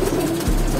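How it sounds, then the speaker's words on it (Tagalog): A pigeon gives a brief, low cooing call, close and fairly clear over a soft background hum, with no talking. "Ang ibon."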